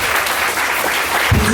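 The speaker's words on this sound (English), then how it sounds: "Clap your hands for that, please." Guests at a sweet sixteen party applaud, a short burst of dense clapping from a crowd, with a low voice or thump near the end.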